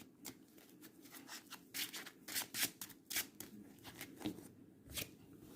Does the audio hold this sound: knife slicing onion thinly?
no